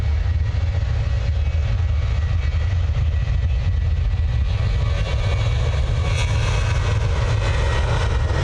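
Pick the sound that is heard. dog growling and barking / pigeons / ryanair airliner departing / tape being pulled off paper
ryanair airliner departing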